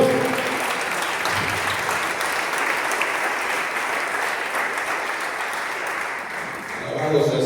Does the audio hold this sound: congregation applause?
yes